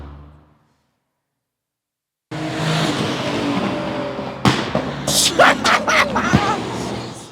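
A Ford Mustang roars past loudly, its engine note swelling and then giving way to a burst of sharp exhaust pops and bangs, heard outdoors in Bedford with voices around it.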